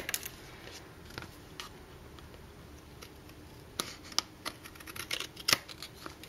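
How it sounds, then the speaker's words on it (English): Quiet, scattered snips of scissors cutting through card, irregular sharp clicks spaced over a soft background, growing a bit busier toward the end. "taking my scissors along the edge"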